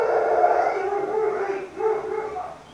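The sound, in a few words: dog barking and howling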